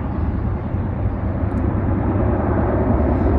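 A PLA 3D-printed drone with 2600 kV motors flies outdoors near branches, its motors giving a loud, close, continuous whirring roar that stays steady throughout with no talk.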